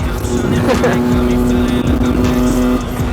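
A loud motorcycle engine roars at over 320 km/h with a sustained whining drone while a voice talks over it.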